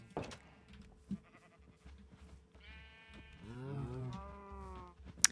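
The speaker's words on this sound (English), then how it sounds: "Sheep are looking good." Sheep in Minecraft bleating, a wavering drawn-out bleat in the middle of the clip over quiet game background with a few faint clicks.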